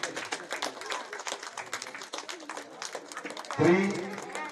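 Faint, scattered audience clapping at a Sankranthi festival closing-ceremony game, mixed with nearby talk and a brief louder swell near the end.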